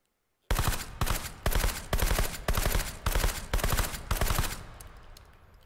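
Gunfire in the VR shooter H3VR: eight loud, evenly spaced bursts of rapid shots with short gaps between them, followed by a fading echo.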